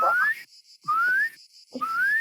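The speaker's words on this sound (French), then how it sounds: "si on siffle comme ça" A person whistles to call chickens in a garden, three loud rising whistles close to the listener, each about half a second long and separated by short silent gaps.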